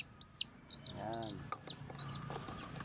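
Farm chickens cluck softly, with a few higher chirps from chicks, at moderate distance over low background noise; a brief voice is heard in between.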